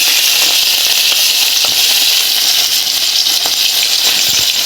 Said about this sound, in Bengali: ও মাই গড, ছমছম করে উঠছে মাছ।